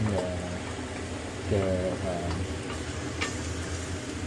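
Golden threadfin bream fries in a pan before being made into fish soup, giving a constant sizzle with occasional stirring scrapes while a person talks over it.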